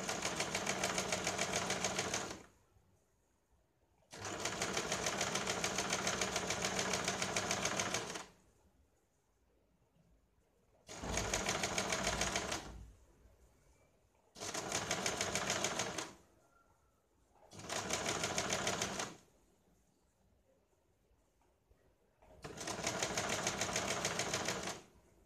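Stitching a single katori blouse, a sewing machine runs in six separate bursts of rapid, even needle clatter, each a few seconds long. Quiet gaps fall between them.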